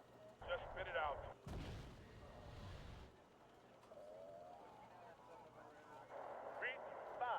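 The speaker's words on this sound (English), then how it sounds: "you're getting destroyed by this fire support" Artillery fire-support barrage in a military video game: one loud, heavy blast roars for about a second and a half mid-clip, surrounded by whistling, chirping tones and rumbling background noise.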